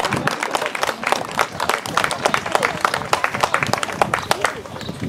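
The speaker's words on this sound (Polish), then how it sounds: "jeszcze raz wielkie brawa dla wszystkich uczestników konkursu numer 4" Spectators at an equestrian show jumping competition applauding the riders, with sustained dense clapping over a continuous crowd murmur.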